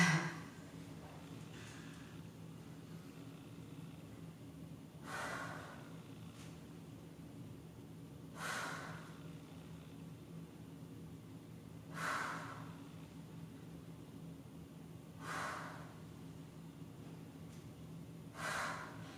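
Slow, deep breaths during an upper body dumbbell workout with skull crushers, about six airy inhale-exhale swells spaced a few seconds apart over a steady low hum, close and moderately quiet.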